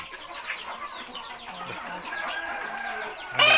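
Fighting roosters clucking and crowing amid a busy farmyard chorus of fowl on a Thai gamecock farm, some birds close, others farther off.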